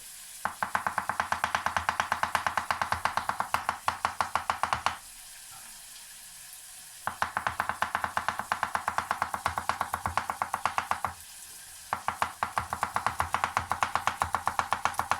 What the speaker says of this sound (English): And then we chop our ginger.